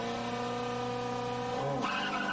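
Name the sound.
race car launching with wheel spin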